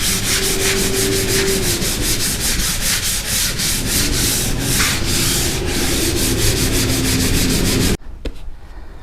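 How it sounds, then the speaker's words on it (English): A hand sander works over a garage wall and ceiling with a loud, steady, close rasp that runs without a break and then cuts off abruptly near the end. "you can use a hand sander. So I'm gonna do that now"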